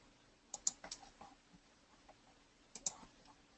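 Several sharp computer mouse clicks while working in design software to select and delete score lines on a card layout: a quick cluster of close, dry taps early, then a pause and a couple more, with no talking.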